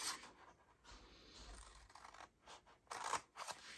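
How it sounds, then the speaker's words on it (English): Scissors snip along the edge of a paper treat box in a few quick, crisp cuts, close and fairly quiet, with soft rustling of paper between the snips. "Now down here, just trim these with your scissors,"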